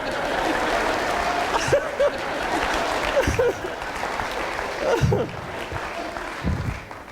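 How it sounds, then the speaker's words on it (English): Audience applause for a speaker at a motivational talk, a steady wash of clapping through the whole stretch with a few scattered chuckles and voices rising above it. "Let's have a round of applause for my friend Bob."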